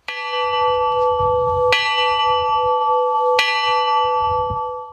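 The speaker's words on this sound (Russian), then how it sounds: "В этот день колокол звучал" A memorial church bell tolls three times at a steady, slow pace, each loud clear strike ringing on with a long sustained hum between hits, with no voices heard.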